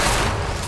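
Incendio fire spell cast in Hogwarts Legacy, a dense, loud burst of roaring, crackling flame that holds steady for well under a second, with no talking over it.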